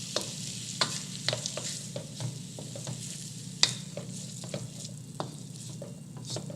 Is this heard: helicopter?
no